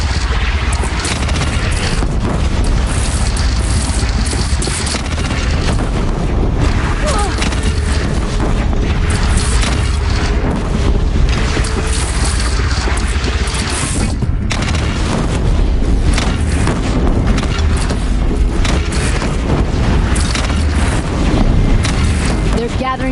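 Video game battle at a bridge with cannon fire and explosions, a continuous roar of booms, rumbling and wind-like blasts throughout, with characters talking over the din.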